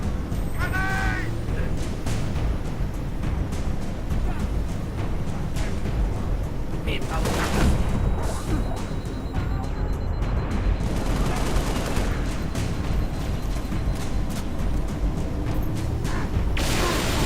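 Gunfire rattles through a chaotic Halo-style video game battle against Spartans, with bursts and explosions layered over continuous dense noise, with a few sharp impacts and a louder blast near the middle.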